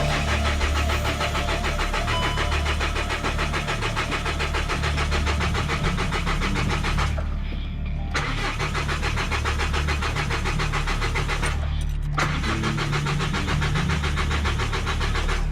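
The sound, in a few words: Golf GT TDI diesel engine cranking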